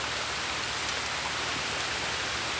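Rain falls steadily outdoors near the sea, a dense, even hiss that continues without pause and with no voices.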